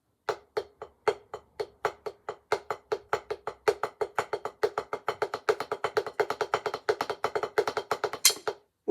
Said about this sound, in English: So a triplet would sound something like this.